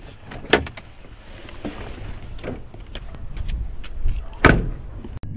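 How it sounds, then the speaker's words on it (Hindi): A car door is shut by someone getting out of a stopped car near a house, with a few sharp thumps and clunks standing out over a low, murky background. "कोई कार से बाहर निकला और उसने अपने दरवाजे को बंद किया।"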